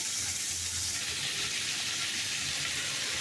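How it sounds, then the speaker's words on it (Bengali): Potatoes frying in mustard oil in a kadai, with bay leaf, dried red chilli and whole cumin in the tempering, for a lentil-dumpling vegetable curry; a steady, loud, close hiss fills the whole stretch without pause. "আলুগুলোকে ভেজে নেব।"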